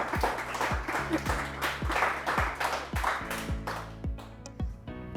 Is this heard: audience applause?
yes